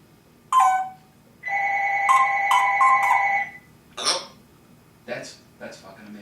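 A telephone rings in a steady, loud, trilling burst lasting about two seconds, followed by short squawk-like calls and voices in a room where a parrot is kept.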